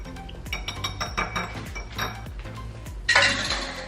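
A breakfast bowl mixture is whisked with a utensil clinking rapidly against the bowl in an uneven rhythm, close and moderately loud, ending with a brighter scrape.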